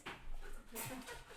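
A dog whimpers in short, soft whines, heard close in a room alongside faint human voices.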